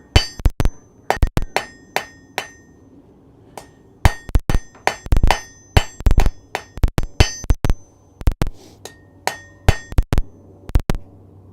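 Hot metal struck on an anvil in a smithy: sharp ringing hammer blows in quick bursts of two to four, separated by short pauses, each strike bright and metallic with a brief clink, close and loud with no talk.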